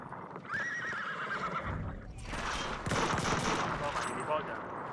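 A horse neighs, followed by bursts of rapid gunfire and hoofbeats in a busy, loud Battlefield 1 battle scene.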